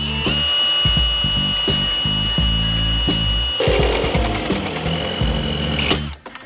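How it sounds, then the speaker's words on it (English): A power drill runs nearly the whole time with a steady whine and rapid rhythmic chatter, drilling a hole in the top of an electrical box, changing tone midway before cutting off abruptly. "And now we're gonna drill that hole in the top of this box."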